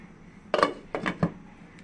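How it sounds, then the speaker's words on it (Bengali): A lid is set onto a cooking pot of pickle mixture with turmeric, making a few close, light clattering knocks of metal against metal spaced over about a second. "এখন এটা ঢাকনা দিয়ে ঢেকে সেদ্ধ করে নেব"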